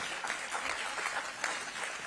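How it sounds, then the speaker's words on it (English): Audience applause at a Washington, DC mayoral announcement, a steady dense wash of many hands clapping close by for about two seconds with no talking over it. "you can clap for that too."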